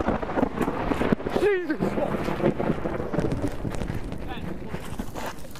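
Rain and gusty wind buffet the microphone during a thunderstorm on a fishing bank, with a low rumble of thunder, while people shout and talk excitedly close by.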